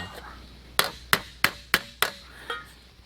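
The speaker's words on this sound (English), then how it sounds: "what are we using to fix it? Well, we're using a hammer." Six sharp hammer blows flattening a metal part of a Coleman 500A stove ring out in a quick, uneven series, close and fairly loud, with a metallic edge.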